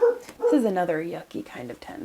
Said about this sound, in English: sorry if you hear my pup, he's right outside my window.